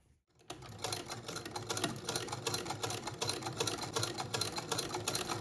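An antique sewing machine stitches in a fast, steady mechanical clatter that starts after a brief silence and keeps running evenly, close and fairly quiet.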